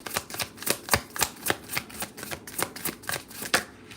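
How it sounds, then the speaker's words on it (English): A deck of tarot cards is shuffled vigorously by hand, giving a rapid, regular series of crisp riffling bursts, close and loud, about four per second, with no talking. "I'll be violently shuffling"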